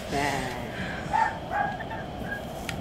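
A dog barks with a few short yips and bow-wows at moderate distance, under a steady background hum, with a voice speaking briefly.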